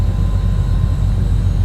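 A Beechcraft Baron twin-engine aircraft's engine roars loud and close, a steady, dense low rumble with no talking heard.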